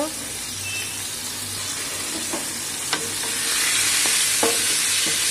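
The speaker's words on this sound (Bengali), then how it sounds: "বাদা মাছগুলো ভেজে তুলে নেব।" Pieces of bada fish fry in oil, giving a loud, continuous sizzle with scraping and stirring clicks from a spatula that grow slightly louder toward the end.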